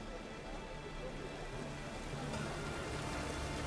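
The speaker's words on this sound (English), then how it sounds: "And it's raining again." Steady rain hiss falls throughout a scene in The Witcher 3: Wild Hunt, a dense even wash of drops at moderate level with low game music and ambience beneath.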